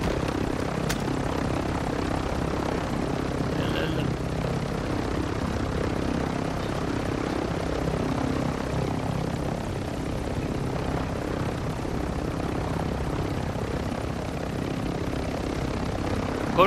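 A helicopter in the Call of Duty Warzone 2 video game flies steadily, its dense rotor and engine roar continuous and loud throughout with no pauses and no talk over it.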